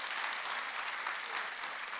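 An audience claps steadily for a welcomed guest at a talk on climate change and social innovation, a dense, even wash of applause with no voices over it.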